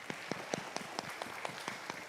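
A few people clap in a sparse, irregular rhythm after a certificate presentation at an academic conference, with about nine distinct claps standing out over a faint hiss and no voices.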